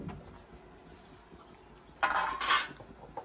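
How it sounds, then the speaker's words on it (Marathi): A kadhai and pots are handled in a home kitchen while kadhi gole are steamed over water. After a quiet stretch come two close, sharp bursts of metallic clanking and clatter. "आणि इकडं कढई ठेवणार आहे का?"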